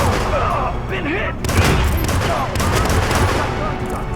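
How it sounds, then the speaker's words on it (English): Rapid bursts of gunfire crack in the PC game Hitman (2016). The shots are loud and overlapping, with voices heard faintly underneath. "Not fireworks this time. Gunshot."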